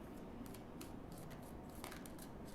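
Tarot cards are shuffled and drawn in a quiet room, soft papery riffles and slides coming in short bursts, faint and close.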